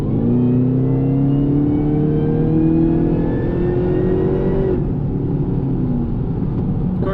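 Shelby Super Snake with a very loud exhaust accelerating hard, a steady close roar with rising engine pitch that climbs through a gear, then drops and continues droning under the cabin.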